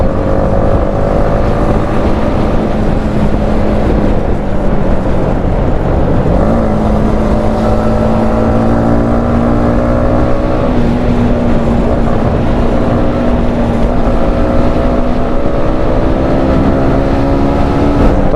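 A Yamaha MT15 V2 motorcycle engine drones steadily and loudly while riding, its pitch dipping and climbing again with gear changes, mixed with wind noise.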